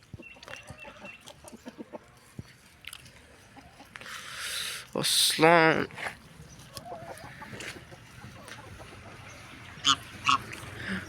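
Backyard chickens and a rooster on a home poultry yard cluck in short bursts, with one louder squawking call standing out near the middle, while someone talks over the scattered hen sounds.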